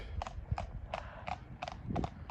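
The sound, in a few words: horses walking up the road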